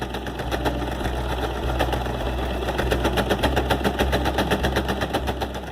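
A sewing machine stitches a beach bag shoulder strap back and forth, its rapid steady needle clatter running loud and continuous throughout with a low motor hum underneath.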